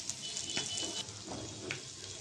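Oil sizzling in a kadai (wok) on the stove, a soft, steady crackle with a few sharper pops and stirring sounds, faint and close, without talking.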